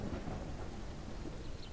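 A brief thunderstorm in the video game Ars Notoria: continuous rain hiss over low, rolling thunder rumble, fairly quiet and steady with no speech.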